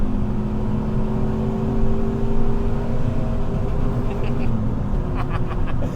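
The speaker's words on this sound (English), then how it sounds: "I just love the sound of a limiter" A Renault Twingo RS Cup engine held against the rev limiter, a loud steady droning buzz with a fixed pitch that wavers slightly, with faint clicks and bursts near the end.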